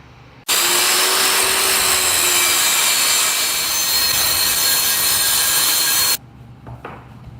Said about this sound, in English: I'm just going to use a circular saw to cut off that width